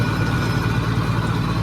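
A tractor engine idles steadily, a loud, close, low rumbling drone with no break, heard while the field is being readied for planting garlic.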